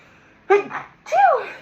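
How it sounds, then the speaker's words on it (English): Two quick, close sneezes, a short breathy one followed by a louder drawn-out one, in an otherwise quiet room. "I have to sneeze."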